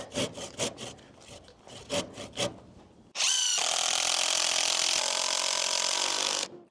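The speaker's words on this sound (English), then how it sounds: "First, I cut some fascia pieces using plywood, angled around the frame" Plywood fascia pieces for a roof frame being cut: a few rhythmic hand-saw strokes, then a loud, sustained power-saw cut through the wood, close up with no voices.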